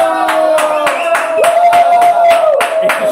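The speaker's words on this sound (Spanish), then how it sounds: "Aplauso." Hands clap in a quick, loud, irregular burst close by, with a voice sustaining a sung or held tone underneath throughout.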